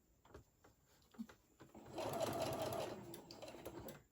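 A sewing machine stitches fabric with a ribbon tucked underneath, starting after a few soft handling sounds and running in a steady, fairly quiet whir for about two seconds.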